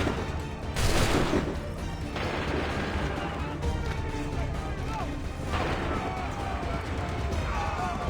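Volley of musket-style gunfire in the Assassin's Creed 3 video game, a sharp crashing burst near the start followed by continued dense battle noise with booms and clatter throughout, voices heard among the din.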